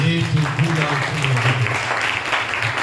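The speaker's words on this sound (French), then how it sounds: "On acclame le Seigneur." A church congregation applauding in acclaim of the Lord, a dense burst of clapping beneath a loud voice speaking and calling out over it.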